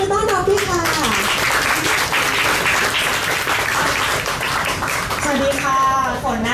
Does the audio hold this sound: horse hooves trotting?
no